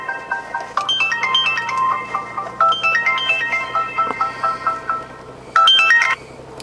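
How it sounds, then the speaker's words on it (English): A loud electronic phone ringtone plays a repeating melodic chime in three bursts, with short pauses between them, inside a Walmart store. "Uh-oh, phone's ringing."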